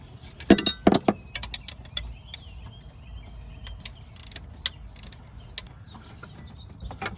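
Ratchet clicking while loosening a large oil filter relocation bolt on a Volvo 740 during turbo work, a burst of sharp close ratcheting clicks early on, then quieter scattered mechanical taps and clinks in a workshop.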